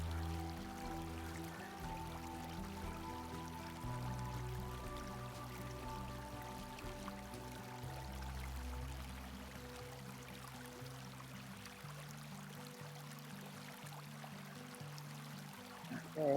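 Faint, steady flow of creek water near a fish hatchery on a nature trail, a continuous low trickling wash with soft dripping textures and no talk.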